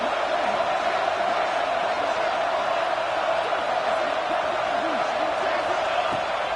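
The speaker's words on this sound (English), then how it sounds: "this crowd is deafening, trying to will the stop" Stadium crowd in a PS5 football video game roaring in a dense, steady wall of noise, loud and unbroken throughout, with a few faint whoops rising out of it.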